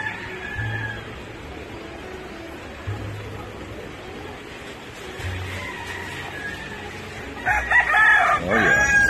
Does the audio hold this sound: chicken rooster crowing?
yes